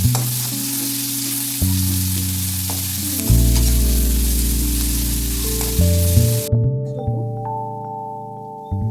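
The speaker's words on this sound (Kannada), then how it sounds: "ಟೊಮೆಟೊ ಫ್ರೈ ಮಾಡಬೇಕು." Tomato frying in a pan while making egg rice: a continuous sizzling hiss under loud tonal background music, the sizzle cutting out near the end while the music carries on.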